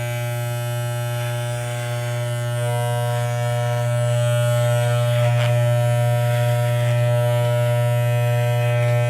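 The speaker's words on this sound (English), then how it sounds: "my clippers apparently are a little bit out of alignment because they just nipped my neck" Electric hair clippers buzz steadily and close up throughout a home haircut on the back of the neck, a strong constant hum with a brief change in tone midway as they cut.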